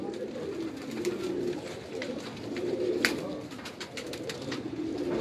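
Rampuri pigeons coo on a rooftop in soft, repeated throaty rolls at a steady rhythm, fairly close, alongside faint background noise and occasional light clicks.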